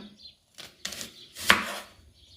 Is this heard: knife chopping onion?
yes